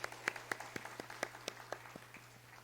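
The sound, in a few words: congregation applause in church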